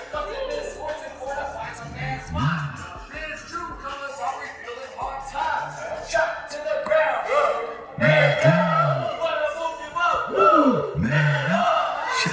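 Hyped crowd at a rap performance cheering and yelling loudly throughout, with surges of shouting mixed among voices and a strong roar swelling toward the end.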